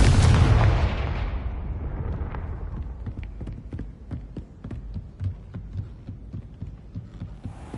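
A Confringo blasting curse explodes in Hogwarts Legacy with a loud, booming burst that decays into a long rumbling tail, followed by a series of softer thumping impacts.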